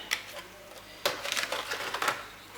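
Scissors snip through paper along scored lines on a box project, a few short crisp cuts with brief pauses between them, close and fairly quiet.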